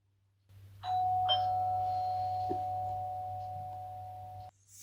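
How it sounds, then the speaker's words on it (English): A doorbell rings once with a sustained electronic chime tone that holds for several seconds before cutting off, alone over a low steady background hum. "reaching out, he pressed the bell with his finger"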